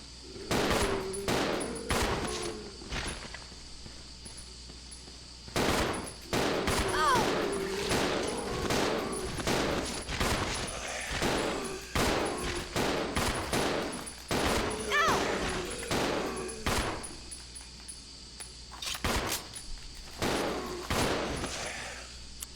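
Handgun fire in the video game Resident Evil 0, repeated sharp shots in irregular bursts across the clip, mixed with game sounds and a person talking over it.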